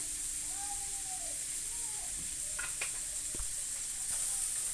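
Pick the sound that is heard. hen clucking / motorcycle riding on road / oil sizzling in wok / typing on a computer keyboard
oil sizzling in wok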